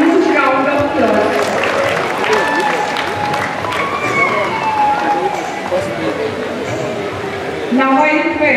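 A school centenary valedictory audience claps for a guest, a dense, loud, sustained wash of applause and crowd noise with voices over it.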